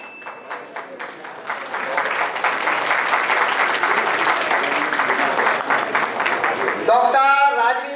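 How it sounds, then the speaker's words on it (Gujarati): An audience claps loudly and steadily for a team at a student felicitation ceremony held by the Vankar Seva Sangh in Chandkheda, swelling after a softer start and giving way to a voice at the end. "આ ટીમ માટે જોરદાર તાળી છે"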